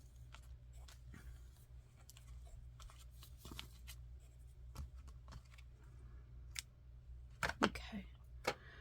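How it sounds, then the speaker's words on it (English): Scissors snipping through paper while putting together a master board journal at a craft table: a series of short, crisp close-up cuts spread across the clip, with brief louder rustles near the end over a steady low hum. "Just grab some scissors. Might as well cut the second one while I'm right here."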